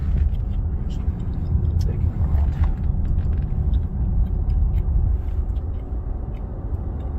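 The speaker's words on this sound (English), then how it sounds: "Got a car coming" A steady low engine rumble from a car fills the whole stretch, close and continuous, with scattered faint clicks and a voice now and then.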